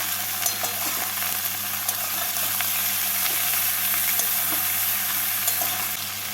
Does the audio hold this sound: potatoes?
yes